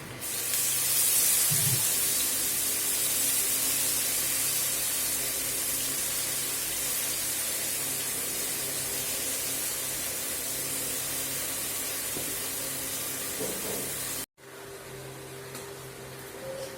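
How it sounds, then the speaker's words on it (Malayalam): Netthal, small anchovies, sizzle in hot oil in a pan, a loud continuous frying hiss that holds steady for most of the stretch before a sudden brief cut, then resumes slightly quieter. "നമുക്ക് നെത്തൽ ആ എണ്ണയിൽ ഇട്ട് കൊടുക്കാം"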